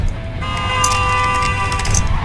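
Several truck horns blare together in a sustained, overlapping honk in the video game Clustertruck, loud and continuous throughout with no talking.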